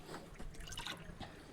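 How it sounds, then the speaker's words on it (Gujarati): Tap water dribbles into a tank at home, a soft uneven trickle with small drips, faint and close, no voices. "જો નળ આવી ગયા છે, આ બધું પાણી ભરવાનું છે"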